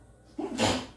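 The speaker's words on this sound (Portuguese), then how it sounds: "eu virei o rosto, tá? Não espirrei na pizza, não." A single close, sharp sneeze bursts out after a brief quiet moment, with the face turned away from a pizza being topped with basil and olives.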